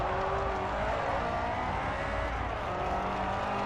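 A video game racing car engine roars steadily and loudly throughout, with a slight rise and fall in pitch and no talking.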